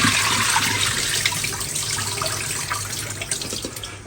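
Rice washed under running tap water, a loud steady rush and splash close by that fades a little over a few seconds, with no talk.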